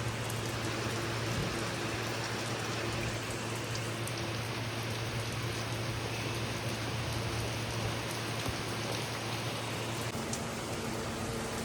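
Rain falling steadily outdoors during a sunny shower, a dense even patter that stays constant throughout with no talk.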